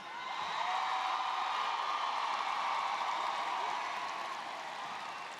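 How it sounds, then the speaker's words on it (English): An audience at a 2022 career technology center graduation applauds the graduates, a steady, even wash of clapping heard from a distance and held at the same level throughout. "Let's give them another round of applause."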